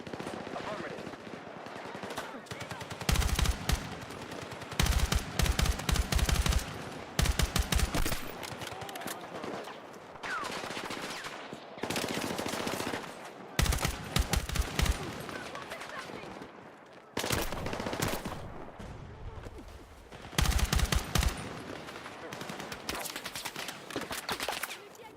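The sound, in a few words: gunfire in the video game Battlefield 6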